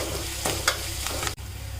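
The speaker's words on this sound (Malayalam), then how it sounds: "ഇതിനകത്തോട്ട് ഞാൻ കറിവേപ്പിലയും കൂടി ഇട്ട് കൊടുക്കുകയാണ്. ഇച്ചിരി കറിവേപ്പിലയൊക്കെ ഏറെ ഇട്ട് കൊടുക്കുക. നന്നായി ഒന്ന് മൂത്ത് വരട്ടെ." Curry leaves and onions fry in a pan for a pumpkin tamarind curry, a steady close sizzle broken by a few scraping stirs of the spoon, with no talking.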